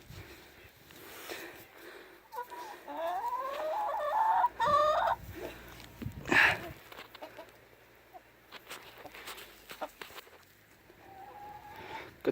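Chickens shut in a coop during a blizzard cluck and squawk at close range, with one bird letting out a rising call in the middle and scattered noises around it.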